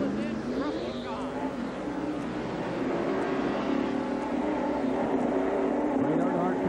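Rusty Wallace's NASCAR stock car pulls out of the pits alongside Ted Musgrave's at the 1994 Tyson Holly Farms 400, North Wilkesboro, its engine revving and rising under an announcer's continuous commentary.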